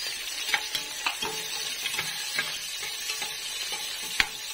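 Onions sizzle in a pan for beef caldereta while a utensil stirs them, giving a steady frying hiss punctuated by regular scraping knocks, close and fairly loud, without talk.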